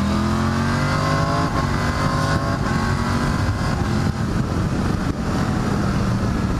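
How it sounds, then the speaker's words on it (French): A Triumph Tiger 900 GT Pro's 900 cc three-cylinder engine pulls hard under acceleration, a loud, steady rising drone with wind noise, recorded close on the moving motorcycle without speech. "Ce moteur 900 3 cylindres est très agréable."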